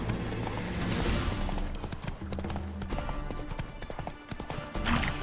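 Horse hooves gallop in steady, rapid clip-clop rhythm in the Witcher 3 video game, close and continuous over ambient game sound, with a brief whinny-like tone.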